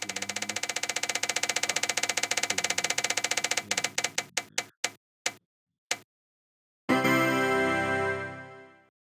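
A prize wheel clicking rapidly and evenly as it spins, then ticking slower and slower until it stops, followed by a short, bright chiming jingle.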